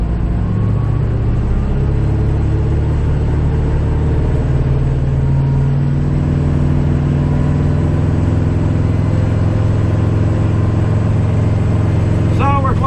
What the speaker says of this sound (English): So now we're going to wind her up. So now she's up to 227 RPM. We're going to bring it up to 540.